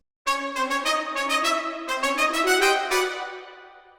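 Two orchestral horns play an octave below the trumpets, doubling their top line in a brassy voicing; a series of sustained, rhythmically repeated chords rings out clearly and alone, then decays at the end.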